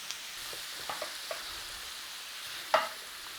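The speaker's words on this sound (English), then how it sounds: "I'm just going to add a little bit more butter because I want to make a roux." Butter melts in a pot to start a roux for creamy chicken corn chowder, giving a soft, fairly quiet sizzle with a few light clicks and one sharper clink near the end.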